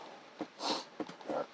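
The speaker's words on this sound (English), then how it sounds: "That dust has been stored for a long time. Makes me sneeze" A person sneezes and sniffles from old dust that has been stored for a long time. Several short, close bursts are spread across the moment, with one fuller sneeze-like blast in the middle.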